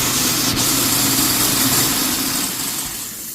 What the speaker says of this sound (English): Garbage disposal.